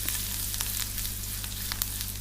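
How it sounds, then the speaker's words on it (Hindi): Chopped garlic, ginger and red chillies frying in oil as a tempering for sarson ka saag, a constant crackling sizzle with small pops, heard close and alone under a low steady hum. "अच्छी तरह से थोड़ा सा तल लें तेल के साथ।"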